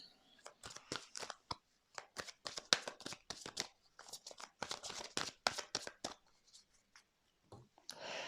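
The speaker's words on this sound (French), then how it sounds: "on va faire la coupe, on va faire le tirage" Tarot cards being cut and drawn for a reading, a quick series of close, crisp card slaps, shuffles and slides in irregular bursts with brief pauses, fairly quiet and without talking.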